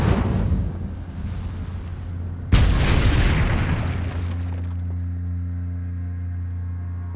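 Incendio fire spell cast in the video game Hogwarts Legacy: a sudden loud whooshing blast that fades slowly into a low, steady ambient hum, with no voices.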